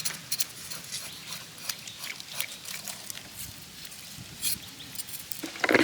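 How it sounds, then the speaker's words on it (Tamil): Cut freshwater fish are rinsed by hand in water in a traditional village kitchen, with soft, irregular splashes and sloshing close by. "இப்போ வந்து நம்ம மீன் அலசிக்கிட்டு இருக்கோம்."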